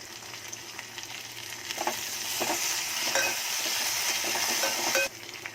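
Curry leaves and chopped coriander dropped into hot oil with cumin, mustard seeds and garlic, crackling and sizzling loudly up close while a spoon stirs, then cutting off abruptly near the end.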